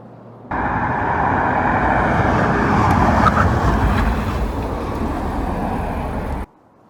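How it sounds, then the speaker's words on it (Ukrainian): A car brakes hard during a braking test between a 1980s BMW and a VW Jetta, giving a loud, sustained roar of tires and road noise for about six seconds before it abruptly cuts off. "Ну ніфіга собі затормозив, я тобі скажу."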